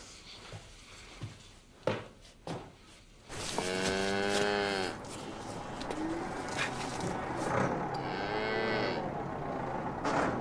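Cattle on a farm moo in two long, loud calls, the first drawn out and near, the second shorter, with birds cooing and scattered thumps in the quiet between.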